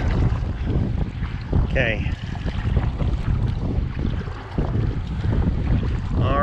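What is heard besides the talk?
wind blowing on water while kayaking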